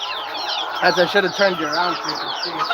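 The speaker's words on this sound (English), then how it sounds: "Feeding chickens." Chickens being fed, soft clucks and chirps running beneath a person speaking nearby, the birds close but quieter than the voice.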